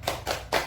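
Three quick, evenly spaced hand claps, close and crisp, from children clapping along in a classroom clap chant.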